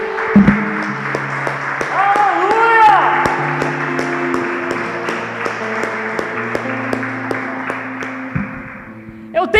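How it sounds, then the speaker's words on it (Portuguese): Church congregation clapping together over keyboard music and sustained tones, a steady spatter of hand claps running throughout at moderate loudness, with voices mixed in. "Quem pode dar um aplauso para o Senhor Jesus?"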